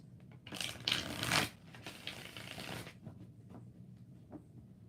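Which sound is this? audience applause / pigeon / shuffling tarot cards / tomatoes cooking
shuffling tarot cards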